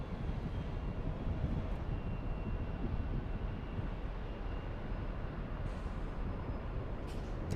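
A KLM 787 airliner landing at LAX sends a steady, distant broadband roar through the whole stretch, fairly faint and even, with no voices over it.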